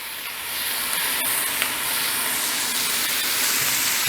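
Food sautéing outdoors, seasoned with garlic salt and pepper, gives off a steady, moderately loud sizzle with a bright hiss that runs unbroken for about four seconds and has no talk over it.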